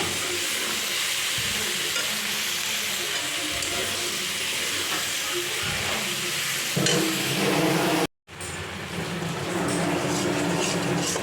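Fish frying in oil in a pan gives a loud, continuous sizzling hiss with occasional bubbling swells, broken by a brief cut near the end before the frying resumes.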